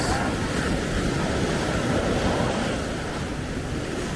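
Ocean surf washes onto a beach at sunrise in the Dominican Republic, a dense continuous roar of breaking waves mixed with strong wind buffeting the microphone, with no voices.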